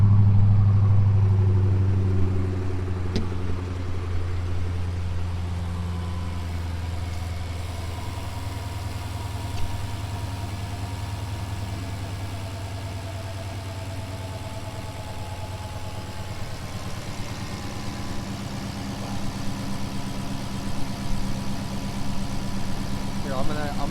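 A Dodge Charger SRT Hellcat Redeye idles loud and close, a deep steady rumble that starts strong and holds even throughout, with a faint background murmur.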